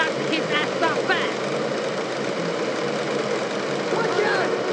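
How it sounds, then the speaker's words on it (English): Car engine idling in the video game GTA 3, a steady mid-pitched running hum under game voices speaking in bursts, continuous throughout. "Keep the engine running."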